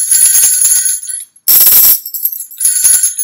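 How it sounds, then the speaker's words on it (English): Small toy bells from a cheap holiday instrument set jingle and tinkle in bright bursts, with a short silence in the middle before a second shake and a final round of ringing, close and fairly loud. "Bells sound like this."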